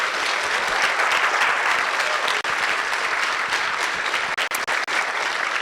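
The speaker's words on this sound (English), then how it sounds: "You guys deserve a huge round of applause." Sustained applause from a banquet audience at an academic decathlon awards dinner, a dense even clapping that fills the room and holds steady to the end.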